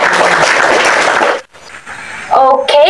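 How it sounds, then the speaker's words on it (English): Classroom applause from a class of students, a dense burst of clapping lasting about a second and a half, then dropping away as a teacher begins speaking. "let's give ourselves a big round of applause"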